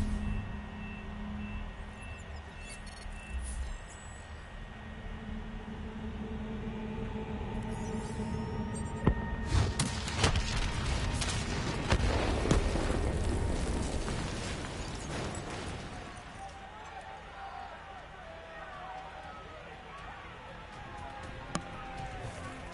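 Explosions and detonation blasts erupt in a Black Ops 3 campaign battle, a broad loud burst building for several seconds mid-clip over rumbling combat noise, with voices speaking around it.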